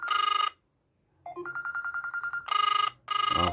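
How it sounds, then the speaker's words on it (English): Outgoing-call ringback tone from a Z78 Ultra smartwatch over Bluetooth, heard as repeated electronic ring bursts with short gaps between them, played fairly loud through the watch's small speaker with no talking. "Okay, it's now dialing."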